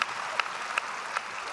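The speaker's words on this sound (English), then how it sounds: "let's give the Jets a big round of applause" Applause from mourners at a public memorial service in Winnipeg, honouring the Jets hockey team: a soft, distant wash of clapping from a large crowd, steady and fairly faint, with a few slightly sharper claps poking through.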